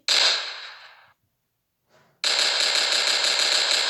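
Pump shotgun firing in a Minecraft 3D gun mod: one loud, sharp blast that decays over about a second, a short silence and a faint click, then a second loud, sustained burst of gunfire that runs to the end.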